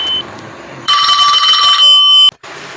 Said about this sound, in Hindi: सॉरी बच्चों फ़ोन आ गया था